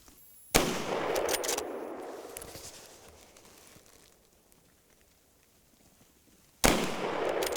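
Two sharp hunting-rifle shots ring out during a wild boar hunt in Hungary: one near the start with a long rolling echo fading across open ground, and a second loud report near the end, with no talking.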